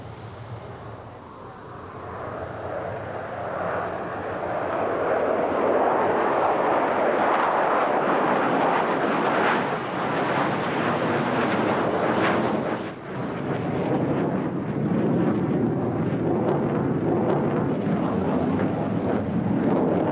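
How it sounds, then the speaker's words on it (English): MiG-29 jets fly an aerobatic display, a loud roaring rush that swells in over several seconds and then holds as a broad, rumbling thunder, with wind buffeting the microphone. "The Swifts fly a mixture of single and two-seater MiGs, generally in a group of 6, with a 7th aircraft flying solo."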